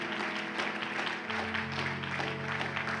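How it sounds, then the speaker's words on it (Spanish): A church congregation claps during a worship service, applause mixed under sustained organ or keyboard tones and voices, moderately quiet and continuous. "Denle un aplauso a Cristo, hermano."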